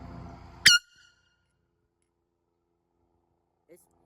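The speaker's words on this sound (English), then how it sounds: "I'll go use the air horn at Capernaum for the day." A single loud, sharp air horn blast rings out after a few seconds of talking, then stops abruptly into near silence, with only a faint brief noise later.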